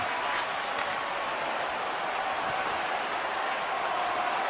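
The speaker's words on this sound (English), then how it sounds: "the crowd's on their feet, saluting the team after a hard-fought effort this evening" A video game hockey arena crowd cheers and applauds at the end of a hard-fought game, a dense, steady roar of clapping and crowd noise with no breaks.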